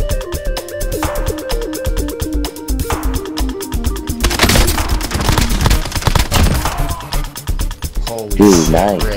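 Video game gunfire in a duo shooter match, dense bursts of close automatic shots and impacts layered over busy game audio, with a player talking over the action.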